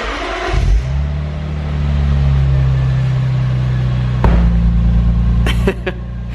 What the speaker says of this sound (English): It's a completely stock system. I kind of wanted to go for like a bit of a discreet setup on this car.